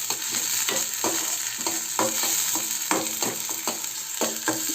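A spoon scrapes and stirs in a very hot tadka kadhai with steady sizzling, the rhythmic strokes loud and close, repeating roughly every half second.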